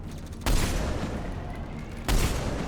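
Gunfire in the video game Mass Effect 3, two heavy blasts a little over a second and a half apart, each ringing into a dense, loud rumble of combat noise.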